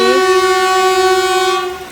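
An Amrit Bharat Express train on a loop line sounds its horn, a loud, close, steady tonal blast that holds for nearly two seconds before fading slightly.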